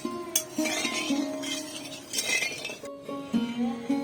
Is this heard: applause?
no